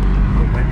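A deep, heavy Ferrari sports car engine rumble fills the brief moment, close and loud, with a voice over it.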